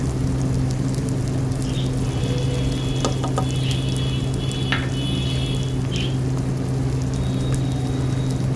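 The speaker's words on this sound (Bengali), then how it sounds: "দেখুন আদা রসুনটা বেশ ভালো করে ভাজা ভাজা হয়ে গেছে।" Ginger and garlic frying in oil with red chili powder added, a steady close crackle and sizzle over a constant low hum, with a few brief clinks and scrapes mid-way and no speech.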